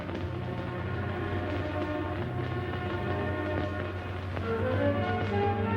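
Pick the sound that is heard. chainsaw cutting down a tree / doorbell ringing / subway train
subway train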